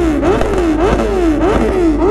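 A Kawasaki Z900 motorcycle with a custom exhaust revs loud and close, its engine note rising and falling in repeated swells over a steady rumble.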